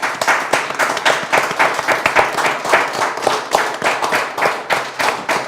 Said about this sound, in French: Je vous demande d'applaudir très très fort pour ceux qui sont là.